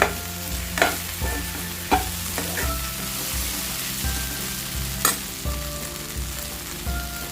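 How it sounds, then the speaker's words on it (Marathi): Bhindi (okra) masala frying in a pan while it is stirred, a continuous loud sizzle broken by regular scraping strokes and occasional sharper knocks of the spatula against the pan. "आता चांगलं ढवळून घेतलंय बघा"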